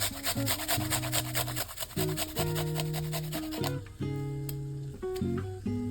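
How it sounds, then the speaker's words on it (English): A garlic clove is rubbed against a grater in quick repeated rasping strokes for a few seconds, close but quiet beneath louder background music. "Then I'm going to grate 1 garlic clove."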